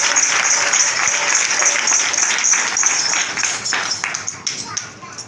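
A church congregation claps in a dense burst that gradually thins toward the end, with individual claps becoming audible as it tapers off.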